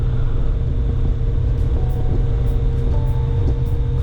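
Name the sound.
motorcycle engine running on the road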